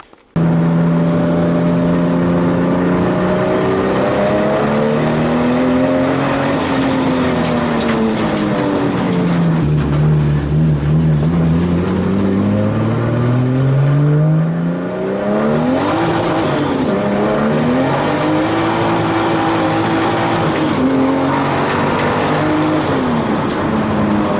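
A Nissan 240SX drift car, repaired after drift damage, drives steadily with its engine droning loud and close, pitch rising and falling through gear changes and revs for the whole stretch, with no talking.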